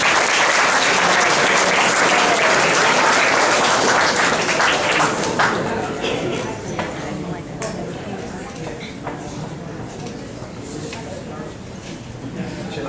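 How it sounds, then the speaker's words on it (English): Loud applause from wedding guests fills the first half, then thins into scattered clapping that fades under background chatter. "a big applause for both families for this wonderful event"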